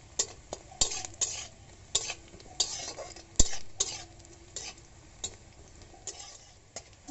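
Onions frying in a pan until light brown, a soft steady sizzle under repeated scraping and clinking strokes of a spatula against the metal pan, in irregular bursts close by.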